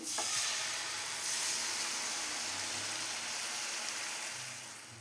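Eggs fry in a spiced pan for egg bhurji, giving a steady, loud hiss and sizzle that swells briefly and then fades slightly toward the end.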